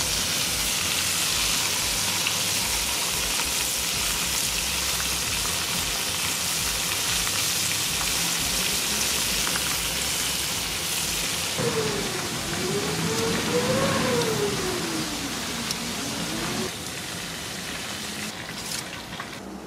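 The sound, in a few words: soft-shell crabs frying in oil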